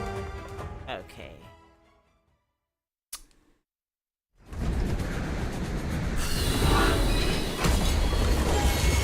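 Moving train in the video game Duet Night Abyss: after a quiet gap with a brief click, a loud, dense rumbling roar of rolling rail noise builds and holds steady, swelling brighter partway through.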